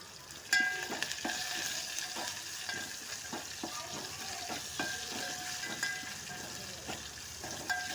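Dry red chillies and curry leaves with salt crackle and sizzle in hot oil for a Telangana-style brinjal-tomato chutney. Close, quiet popping and spitting continue steadily, with a sharper crackle near the start.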